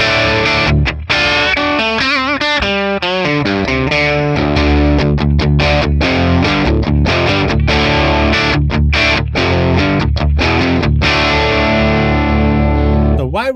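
A Les Paul electric guitar played through a Friedman PLEX amp capture on the edge balanced setting, reverb off, giving a loud, continuous distorted riff with sustained chords and quick rhythmic stops, heard alone.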